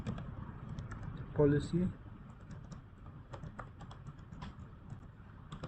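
Quiet keystrokes clatter on a computer keyboard in scattered bursts while a person speaks briefly.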